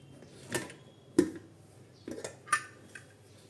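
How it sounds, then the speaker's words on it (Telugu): A pressure cooker lid is opened after the whistles, with a few sharp metallic clinks and clanks spaced across a quiet kitchen, nearby and moderately loud, with no talking. "మూత తీసుకొని చూసుకుందాం ఒకసారి"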